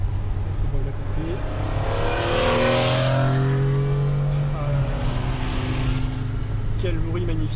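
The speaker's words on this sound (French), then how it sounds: "Quel bruit magnifique aussi ça, la petite Porsche." A small Porsche engine revs hard while accelerating, its rising and falling harmonic tones sustained and loud across several seconds, with steady road and engine noise underneath.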